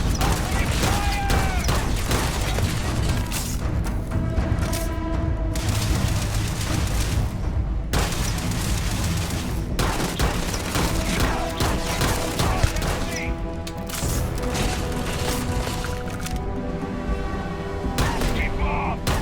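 Sustained gunfire in the space game Starfield, a dense, continuous fusillade of rapid shots and booms close up, running steadily throughout with in-game voices calling out over it.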